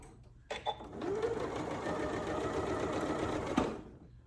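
A Janome Memory Craft MC9450 sewing machine back stitching on a zippered pouch runs in one steady, close whirring stretch of about three seconds, starting and stopping cleanly.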